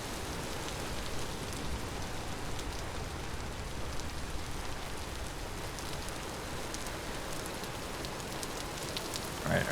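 Rain falls in a survival video game as a continuous, even hiss of drops, moderately loud and unbroken, with no one speaking.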